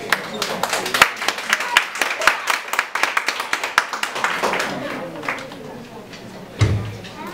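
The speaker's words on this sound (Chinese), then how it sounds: "那让我们再掌声欢迎他。" An audience claps to welcome a student performer on stage, the claps sounding as scattered, distinct sharp hits that thin out, followed by a brief voice and a low thump near the end.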